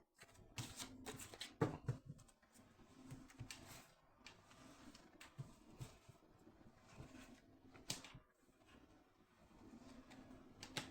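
Oracle cards being shuffled for a reading, soft, close riffling and sliding of the card stack in irregular bursts, with faint rustles between them and no talking.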